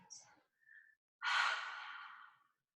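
A long, close, breathy exhale during a yoga-style exercise practice, after a few softer breath sounds, otherwise quiet.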